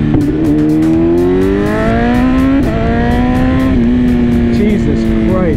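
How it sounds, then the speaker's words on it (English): A BMW M1000RR sportbike revving hard on a dyno, its loud, continuous engine wail climbing steadily in pitch with brief dips at each gear change. "We're gonna put the M1000RR on the dyno and find out how much power it makes."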